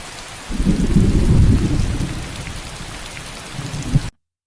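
A rainy-season thunderstorm with heavy rain pouring down and a deep, loud roll of thunder building and fading over several seconds, ending abruptly in silence.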